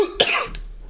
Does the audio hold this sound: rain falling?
no